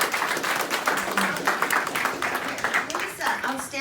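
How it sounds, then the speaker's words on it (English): Applause from a Rotary club audience for a guest speaker, a dense patter of hand claps at a lively level, with voices talking over it toward the end. "how about a round of applause?"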